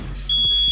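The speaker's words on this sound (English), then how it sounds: "Smoke detectors, everyone." Smoke detector sound effect in a comedy radio play, a single loud piercing electronic tone cutting in sharply and holding steady, close and alone.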